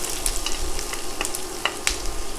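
Chopped onions hit a hot pan for a white queso dip, giving a steady, even sizzle close by, with a few sharp crackles and light stirring clicks scattered through it.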